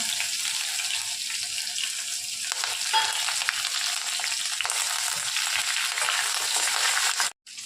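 Grated ginger, garlic and curry leaves fry in hot oil in a kadhai with bay leaf, giving a steady, loud close sizzle with occasional stirring scrapes, ending in a brief silence.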